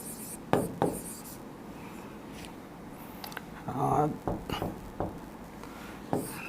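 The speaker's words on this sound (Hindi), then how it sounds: "ऐसे लिखेंगे प्रॉपर वे में।" Chalk or pen strokes during a Class 10 maths lesson come in short, separate scratches and taps with pauses between them, heard close and fairly quiet while a teacher talks softly.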